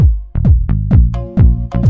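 A Korg M1 Organ 2 house preset with chorus and EQ plays a punchy, rhythmic chord riff, about eight sharp stabs with quick decays over two seconds, loud and close with no voice.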